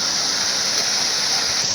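Steady rain pours down outdoors in a continuous dense hiss, loud and even throughout with no voices.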